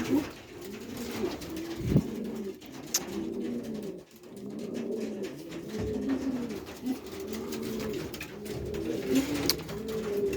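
Several racing pigeons coo steadily in repeated low, throaty phrases, overlapping one another at close range with no voices.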